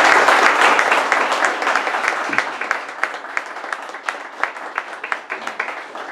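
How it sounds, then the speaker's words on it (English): Audience applause at the end of a community panel, starting as a thick burst of many clapping hands and thinning into scattered, sharper individual claps as it tapers off. "A big round of applause for everyone."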